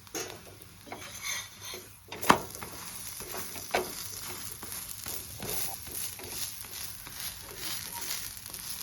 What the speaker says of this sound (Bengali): দুটো পিঠ লাল লাল করে আমি ভেজে নেব।